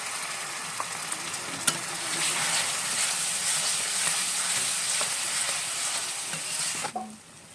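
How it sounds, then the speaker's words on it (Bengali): Water is poured into spice paste frying in a pan, producing a loud, steady sizzle and bubbling close by with occasional clinks, then dropping away abruptly at the end. "মিক্সারে বাটি দিয়ে জল রেখেছিলাম, জলটা দিয়ে দিচ্ছি।"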